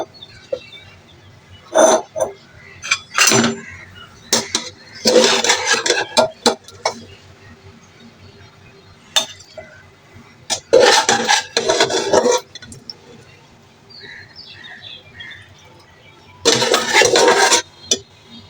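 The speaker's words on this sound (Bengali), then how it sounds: "এবার আমি একটা পাত্র নিয়ে নেব।" Pots and pans clink and clatter as a dish is taken out while jackfruit kofta curry is being cooked, sharp metallic knocks and scraping bursts coming in irregular clusters separated by quiet gaps.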